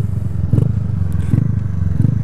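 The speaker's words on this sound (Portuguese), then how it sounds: "Ela tem o escapezão aqui esportivo, né? O escapezinho Fortuna. Que faz um barulhinho legal." A Honda CG 125 Fan motorcycle fitted with a Fortuna sport exhaust idles close by with a low, throbbing single-cylinder putter, swelling in rhythmic pulses about once every three-quarters of a second.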